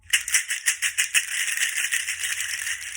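A handmade rattle of halved seed pods strung on strong twine is shaken close up, making a dry, crisp clatter that comes in quick rhythmic bursts and then settles into a continuous rustle, with no voices.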